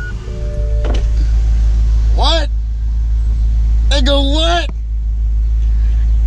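A BMW M6 or Maserati GranTurismo sits idling just after starting, a loud, steady low rumble throughout, with brief whining motor sweeps rising over it.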